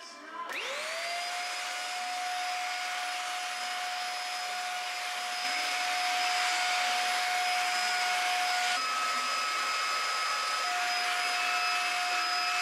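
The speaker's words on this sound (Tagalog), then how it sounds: "Nag-vacuum ako" A vacuum cleaner runs steadily while a room is cleaned, a loud constant motor whine with a strong tonal hum that starts abruptly and holds for the whole stretch, shifting slightly in pitch partway through, with no talking.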